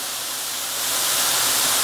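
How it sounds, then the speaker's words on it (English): Beef sizzling on high heat in a pan, a dense, loud hiss that swells slightly and holds steady for under two seconds. "you want it high enough to where you're going to hear a good sizzle here"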